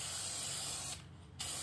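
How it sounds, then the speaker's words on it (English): Aerosol can spraying a light coat of spray glue during an Onan generator modernization, a steady close hiss that stops briefly for about half a second before resuming. "just a light coat of that spray glue"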